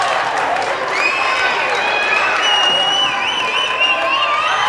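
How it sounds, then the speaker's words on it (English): A gym crowd at a 3A state high school volleyball playoff match applauds and cheers a player, with steady loud clapping, whoops and shrill whistles running throughout. "Hannah Thiel getting a round of applause there"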